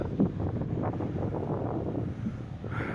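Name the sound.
wind on a beach in Wales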